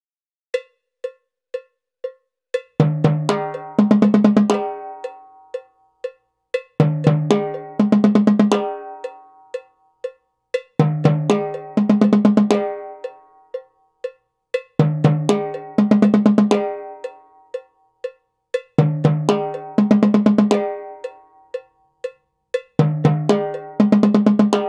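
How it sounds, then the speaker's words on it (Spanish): A metronome ticks steadily at 120 bpm, its light, regular clicks running under repeated bursts of timbal and cowbell phrases that start and stop in a looping pattern. "Ahora usamos el metrónomo a 120 como les había recomendado anteriormente"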